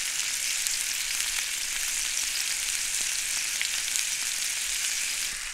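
Herb sauce gently warming in a pan over low heat, giving a steady, even sizzle and hiss that holds without a break for several seconds, with no voices.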